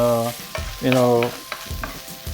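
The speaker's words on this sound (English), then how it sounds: "Cook them a little bit until they're just a little bit transparent" Shallots sauté in a pan with a soft, steady sizzle, broken by a few short stirring scrapes, close and clear with no talk.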